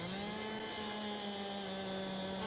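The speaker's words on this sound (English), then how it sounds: "get my chainsaw out" Chainsaw in Farming Simulator with a lumberjack mod, cutting a tree: a steady, loud buzzing engine drone holding an even pitch throughout, with no voices.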